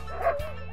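A dog gives one short, close bow-wow bark with a slight whimpering edge, heard alone and quickly over.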